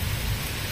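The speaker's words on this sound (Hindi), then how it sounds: "पूरा अंधार करके मस्त पूरा वर्षा होची आज" Heavy monsoon rain pours down in a village setting as a dense, loud, continuous hiss with a deep rumbling undertone, with no voices.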